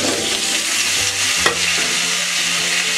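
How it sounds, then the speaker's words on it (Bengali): Potatoes fry in hot oil in a pan for a fish curry with cauliflower, giving a steady, close sizzle with light stirring scrapes and one brief clatter midway, and no voices. "এবার আমি আলুগুলো ভেজে দিচ্ছি।"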